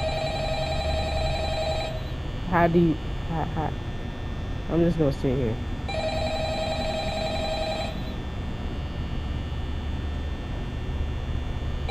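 An electronic telephone ring repeats in two long steady bursts in the Five Nights at Freddy's video game, sounding clear and close over a constant background hum while a person talks between the rings.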